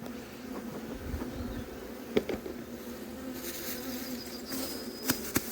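Honeybees buzz steadily around the entrances of nucleus hives in an apiary, a close, continuous drone with individual bees flying past near the microphone.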